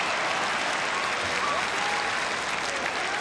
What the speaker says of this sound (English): And a big round of applause for the man they love here